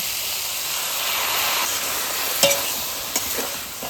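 Cauliflower stems fry in a pan with mustard, ginger and chili paste, giving a loud steady hiss and sizzle close by, with a couple of sharp stirring knocks near the end.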